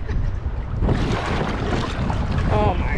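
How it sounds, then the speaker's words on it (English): Wind blows over a river, a steady, loud rushing roar buffeting the microphone for the whole stretch, with a faint voice briefly underneath. "It's windy."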